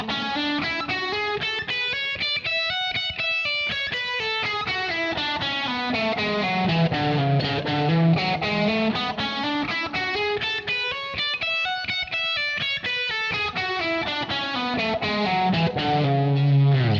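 Distorted electric guitar running a steady alternate-picking synchronization exercise, down and up strokes on each string, fast even notes sweeping up and down across the strings, loud and continuous without talk.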